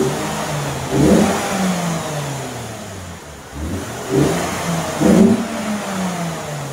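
A stock 2006 Lexus IS250 with its factory exhaust revs up in several short bursts, the engine note climbing and falling back toward idle between throttle blips, fairly close and fairly loud, with no talking.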